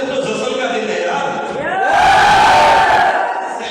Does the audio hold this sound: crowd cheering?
yes